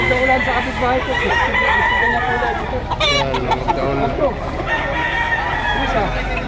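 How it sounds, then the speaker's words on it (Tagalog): Many chickens clucking and roosters crowing together at a busy chicken market in Lipa, Batangas, Philippines, noisy, with overlapping calls throughout and a louder crow near the middle. "napakarami pa rin ang manok"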